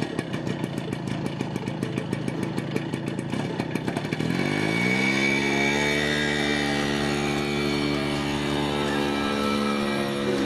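A motorcycle engine putters rapidly close by, then revs up and drones steadily as it pulls away. No voices are heard.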